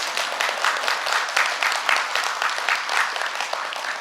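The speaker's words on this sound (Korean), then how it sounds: "이건 박수 받을 일이에요." A congregation at a summer church retreat breaks into steady applause, many hands clapping in a continuous, moderately loud patter for a few seconds with no talking over it.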